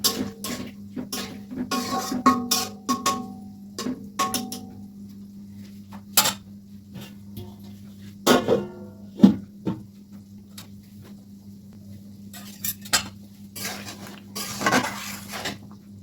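Cauliflower stems stir-fried in a pan for a pabda fish and cauliflower curry, with a soft low sizzle under repeated clinks and scrapes of a metal utensil against the pan, in irregular bursts.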